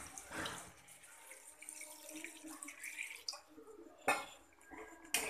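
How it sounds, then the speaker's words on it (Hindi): Water pours into sautéed chicken in a pan to make korma gravy, an uneven splashing gush with watery trickles and a brief clatter of cookware, fairly faint. "ग्रेवी के लिए इसमें डाल देते हैं पानी।"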